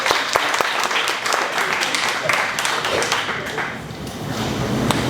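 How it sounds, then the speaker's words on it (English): Audience clapping fills the room, a mix of hand claps, taps and thumps with voices mingling underneath, fairly loud and continuous before thinning slightly toward the end. "Clap it up for that man."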